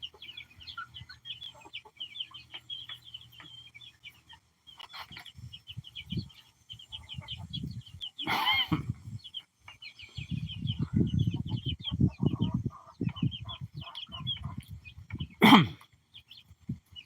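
Backyard chickens, hens and young roosters, clucking and chirping in short bursts, with louder throaty squawks close by and quieter peeping throughout.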